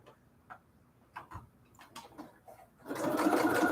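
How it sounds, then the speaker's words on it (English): A new sewing machine set to straight stitch starts running near the end, a loud continuous whir that follows a few scattered soft ticks and clicks; no one speaks. "You love your new sewing machine?"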